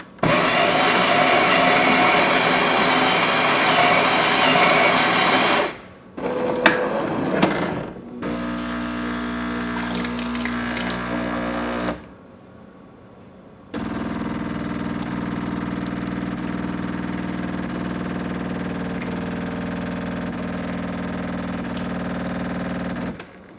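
A Jura E6 Platinum espresso machine pulls a single espresso: a loud, steady grinding whir, a short mechanical clunk and pause, then a sustained pumping hum with brief quiet gaps, close up and without talk.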